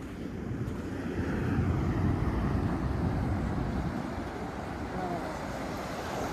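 Surf at El Segundo beach in California rolls in as a continuous broad wash, heavily buffeted by wind noise on the microphone, with a faint aircraft drone in the background.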